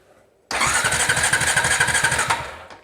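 A Honda TRX350 Rancher ATV engine cranks over steadily with a rhythmic, chugging starter churn that begins abruptly and runs for about two seconds before stopping, close and loud with no talking.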